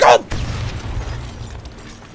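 A stun gun fires in the stealth video game Splinter Cell Blacklist: a sharp loud crackling burst up front, followed by a lower mechanical rumble and clatter that fades slowly.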